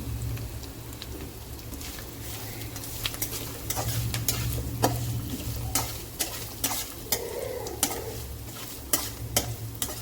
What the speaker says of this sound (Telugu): సో కొంచెం సేపు ఇట్లానే బాగా తిప్పుతా కలుపుకోవాలన్నమాట